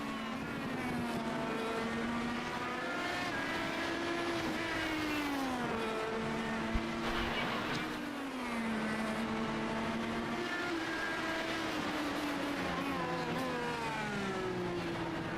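Race car engines scream continuously at Laguna Seca, high revs rising and falling through gear changes as the cars pass, loud and sustained with no talk.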